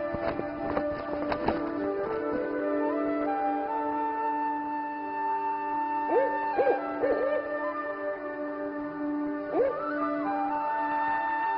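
Owls hoot in a woodland during the day: several tonal calls stand out against a steady, layered background of ambient sound, with a short cluster of hoots near the middle and another near the end, moderately close and with no talk.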